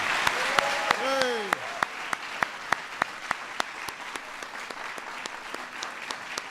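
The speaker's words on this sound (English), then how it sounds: "Let's give our honorees one more big round of applause." Audience applause for honorees at the 2012 National Medals of Arts and Humanities ceremony, sustained clapping throughout with scattered sharper claps, a brief cheer and a voice rising and falling near the start.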